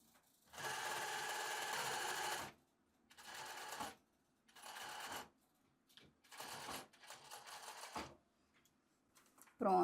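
Sewing machine stitching a pocket on elastic-waist shorts, running in several bursts of steady rapid needle chatter, one long run followed by shorter ones with brief quiet pauses between.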